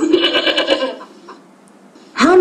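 Goats on a farm bleat, one wavering call at the start and another sharp bleat at the end, close and loud with a quieter gap between them.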